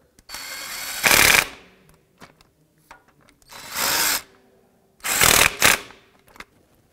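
A ratchet snugs the clutch slave cylinder bolts on a 2006-2011 Honda Civic, giving three close bursts of rapid clicking, each under a second long, separated by quiet pauses.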